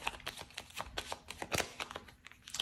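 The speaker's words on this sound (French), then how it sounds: "je vais remettre une carte là" Tarot cards are shuffled and drawn by hand, giving a quick series of crisp riffling slaps and flicks that come in irregular bursts, close and fairly loud, with no talking.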